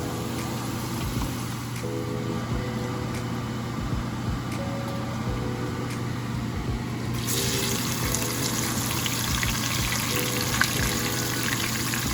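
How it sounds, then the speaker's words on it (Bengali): Potatoes frying in oil give off a steady, even hiss that grows slightly louder partway through, over a constant low kitchen hum, with no speech. "আর এইখানে আলু ভাজা হচ্ছে"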